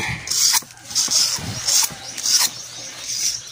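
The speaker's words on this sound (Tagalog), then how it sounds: "steel brush lang natin muna para matanggal yung mga dumi na yan" A steel brush scrubs dirt off the engine parts of a Kawasaki Bajaj CT 125 motorcycle in rhythmic, close, raspy strokes, about five or six passes in a row.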